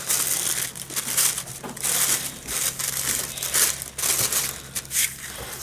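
Polka dot tissue paper wrapping crinkles and crumples in repeated close, crackly bursts, loud and papery, with short pauses between handlings.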